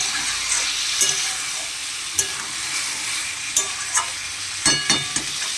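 Chicken meat stir-fried with spices in a pan for a Sunday chicken dish: a steady, close sizzle with sharp spatula scrapes and knocks at irregular moments, no voices.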